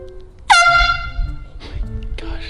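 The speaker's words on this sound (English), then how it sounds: "let's go ahead and do the air horn" A loud air horn blast from a handheld can. One sharp, blaring honk starts abruptly, followed by shorter bursts and faint voices in the background.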